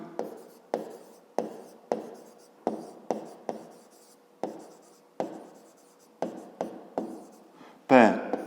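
A pen or chalk writing out a fifth-grade maths exercise on a rectangle's perimeter: a series of short, distinct scratchy strokes in an irregular rhythm, close and quiet, with a brief rub at the end.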